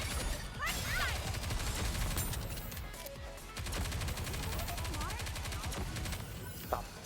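Dense rapid gunfire from the video game Goddess of Victory: NIKKE rattles on throughout in continuous volleys, loud and sustained, with a voice talking now and then over the shooting.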